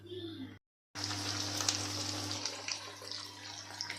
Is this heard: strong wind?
no